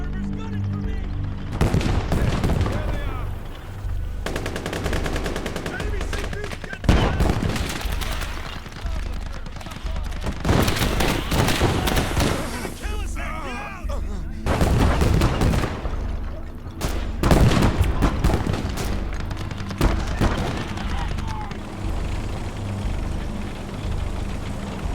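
Gunfire in the video game Gates of Hell: Liberation comes as repeated bursts of shots and heavier booms in a World War II-style battle, loud and dense with short lulls between volleys, and a voice talks over it at times.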